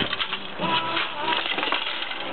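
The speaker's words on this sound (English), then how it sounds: "Okay, we just threw it and it busted." An old glass CRT computer monitor is thrown and busts apart, giving a loud, dense clatter of shattering glass and tumbling debris that goes on for a couple of seconds, with no voices over it.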